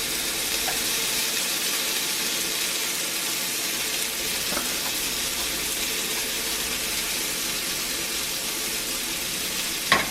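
Eggs sizzle and crackle steadily in a hot cast iron pan, a continuous close frying hiss with faint scraping and a brief knock near the end.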